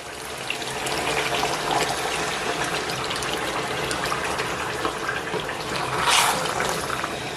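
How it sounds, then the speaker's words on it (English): Meat stock poured into a simmering pot: a continuous close splashing, gushing pour that runs for several seconds and swells briefly near the end, with no talking. "Then I'm going to loosen it a little bit with the meat stock."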